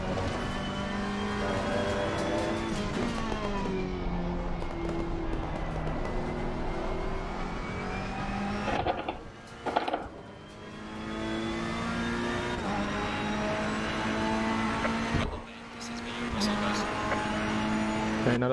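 Racing car engines in a racing video game hold a steady high whine with shifting pitch, interrupted by two brief dropouts, while someone talks over them throughout.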